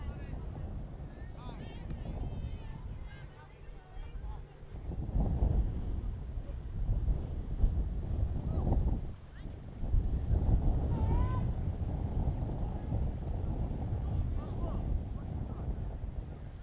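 Cold, gusty wind at a girls' varsity softball game buffets the microphone with low rumbling surges, while someone talks faintly in the background.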